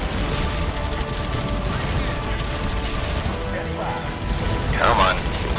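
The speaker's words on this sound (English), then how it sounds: "What the hell's shooting me? Oh, it's a turret." Rapid gunfire from a turret in the Halo Wars video game, a dense continuous fusillade with mechanical clatter and bursts of battle noise, loud throughout.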